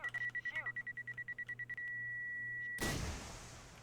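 In Garry's Mod, a rapid series of electronic beeps and a sustained tone lead into a sudden loud whooshing burst as a missile fires, then the rush slowly fades.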